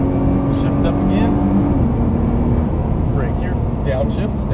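A Nissan GT-R engine roars loud and steady on a race track as the driver shifts up, with a brief tonal dip in the drone, while a person talks over the noise.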